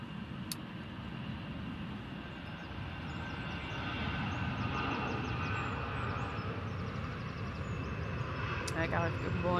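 An Airbus A320neo airliner at Manchester Airport gives a continuous broad jet rumble that swells gently, heard from a distance beneath a voice talking over it.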